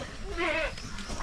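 A goat bleats once on a farm in the Philippines, a clear wavering cry rising in the middle of the clip over a steady rural background.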